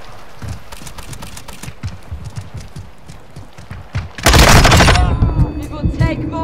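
Rapid gunfire from Modern Warfare 2, with a steady patter of shots that ends in a loud, dense burst of fire around the four-second mark, followed by ringing, tonal game sounds.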